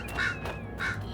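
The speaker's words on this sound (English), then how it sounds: "Hello, birds." Two harsh crow-like caws from birds in Dragon Age: Inquisition, spaced about half a second apart, loud and close over a low game ambience.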